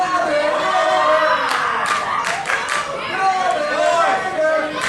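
Wrestling crowd at a British Commonwealth title match, a steady roar of chatter and shouts with a few sharper bursts of yelling, fairly close and loud throughout.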